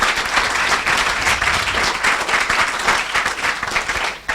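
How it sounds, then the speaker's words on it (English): Dense, loud audience applause at a lecture, honoring project staff, sustained evenly from start to finish with no break. "So give them an applause because it was hard."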